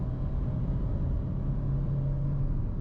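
A Mahindra XUV 3XO diesel automatic pulls hard in second gear, its engine a steady, loud droning rumble that holds constant throughout with no voices over it.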